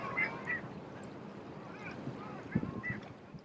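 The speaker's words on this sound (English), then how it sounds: "the majority of the duck's racket is made by the males" Long-tailed ducks, mostly males, call on open water with faint scattered yodeling notes over a steady outdoor background hiss.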